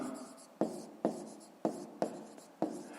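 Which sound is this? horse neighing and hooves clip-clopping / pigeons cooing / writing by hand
writing by hand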